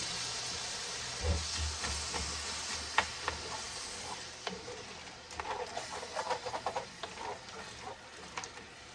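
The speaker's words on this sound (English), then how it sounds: "We're going to saute up our peas and carrots for our fried rice." Peas and carrots sautéing for fried rice, with a steady broad hiss of frying underneath scattered small pops and crackles, plus a brief low rumble early on.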